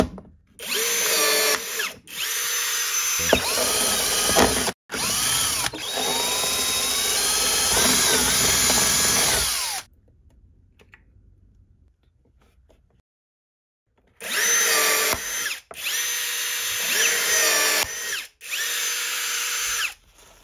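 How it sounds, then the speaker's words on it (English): A power drill bores a single rivet hole in a Pelican Vault 730 case in loud, close, whining bursts of a few seconds each, separated by short pauses and one longer silence. "I'll just drill one single hole and then rivet it."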